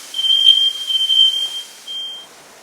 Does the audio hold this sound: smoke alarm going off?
yes